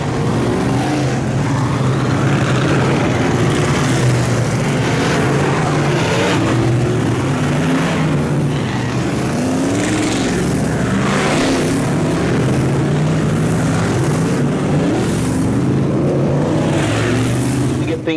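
Modified race cars roar around Fonda Speedway during a 100-lap season finale, a dense continuous engine drone with rising and falling pitch as the pack circles, loud and steady throughout with a voice talking over it.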